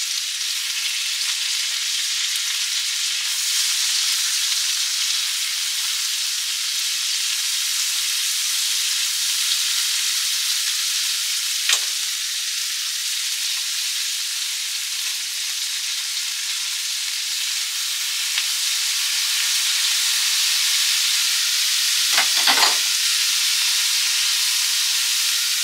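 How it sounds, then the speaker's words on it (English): Greens sizzle and fry steadily in a hot pan with butter and bacon, a constant crackling hiss with a few brief louder pops. "And I'm frying this up just as I would asparagus."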